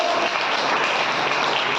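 A congregation at a church fasting-prayer meeting claps loudly and continuously, a thick even wash of hands with no pauses.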